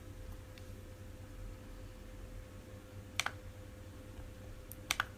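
Two short, crisp pairs of computer mouse clicks near and sharp, spaced a couple of seconds apart, over a steady low electrical hum, with no one talking.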